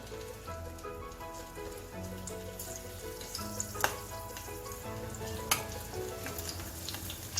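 Chopped green chilies drop into hot oil for sabudana khichadi, giving a steady, dense crackling sizzle with occasional brighter pops, close and continuous throughout.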